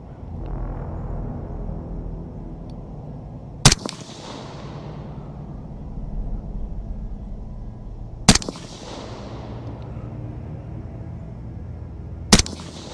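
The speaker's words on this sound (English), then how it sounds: "We're gonna fire, same point of aim." Gas-powered precision gun fired three times, each a sharp loud crack spaced several seconds apart, followed by a fading echo over a low outdoor background rumble.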